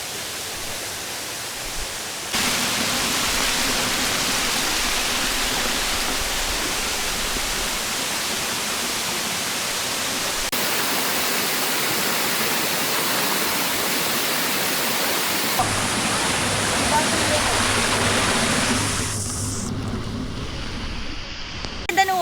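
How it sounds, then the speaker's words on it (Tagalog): A waterfall on the Legacy Trail at Masungi Georeserve pours with a loud, continuous broadband rush that shifts as the listener moves, with no talk over it. "Ganda ng waterfall, yung last namin pinuntahan."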